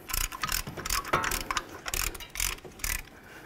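Brake caliper piston tool on a 2014-2017 Infiniti QX50 front brake pushing both pistons back at once, heard as close, repeated ratcheting clicks and mechanical creaks in short bursts.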